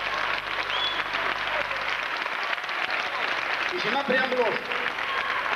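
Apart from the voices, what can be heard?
audience applause at a festival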